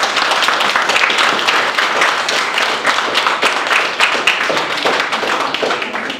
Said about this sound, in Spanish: Unos aplausos para Hernán.